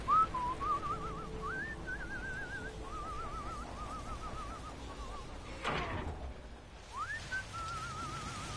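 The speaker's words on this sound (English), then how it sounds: "Bit of a plumber's whistle there." A loud, warbling whistle in No Man's Sky, phrases repeated with short gaps and rising glides, with a sliding whoosh near the end before the whistling resumes.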